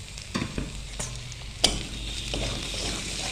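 Chopped onion fries in a pan with garlic and ginger paste, a steady close sizzle broken by scraping spoon knocks and clatter as it is stirred, with no talking.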